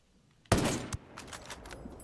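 Gunfire from the video game Ghost Recon Breakpoint: a sudden loud shot cracks out after a quiet moment, followed by another report and a scatter of fainter follow-up shots and echoes.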